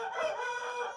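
A rooster crows in one drawn-out call, faint and somewhat distant, with no other sounds around it.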